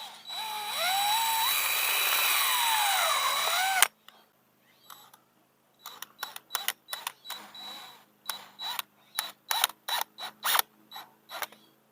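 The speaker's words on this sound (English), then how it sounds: "drill some holes through the rest of the hula hoop" A loud, steady power drill whine grinds continuously for a few seconds while boring holes through a plastic hula hoop, then stops, followed by a string of short clicks and taps.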